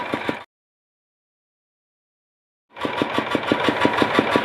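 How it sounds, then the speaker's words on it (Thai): A walk-behind tractor engine powering a rice seed drill chugs with a rapid, even putter, cuts out into near silence for a couple of seconds, then resumes running loudly. "นี่เป็นเครื่องหยอด ซึ่งใช้รถไถนาเดินตามนะคะ"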